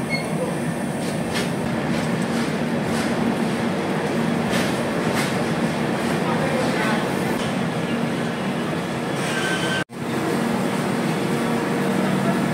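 Brahmaputra Mail express train pulling into New Alipurduar station at night, a steady loud rolling rumble of coaches with faint wheel clatter and a brief sharp drop near the end before the noise resumes.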